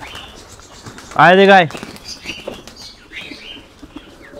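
Pigeons flutter down to feed at a home coop where grain is scattered for pigeons and chickens, a loud burst of flapping wings near the mic, then soft scattered chirps while a person calls them.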